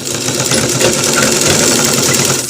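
A sewing machine runs steadily as it stitches a shirt collar, giving a fast, even mechanical whirring and knocking at close range with no talking.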